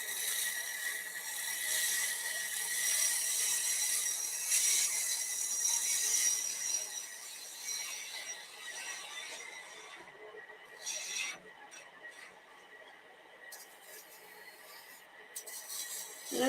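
A lid turning on a wood lathe as a ball or spindle gouge shaves it, giving a continuous close rasping hiss that drops off and returns in short bursts toward the end.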